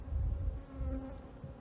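Honey bees buzz steadily and close up while a hive is opened for inspection at an apiary, a dense continuous drone with a few faint low bumps and no talking.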